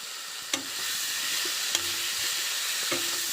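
Egg and potatoes for an egg curry hit spiced hot oil that has been frying masala, giving a steady broad sizzle and hiss with a few soft utensil knocks, moderately close and with no talking.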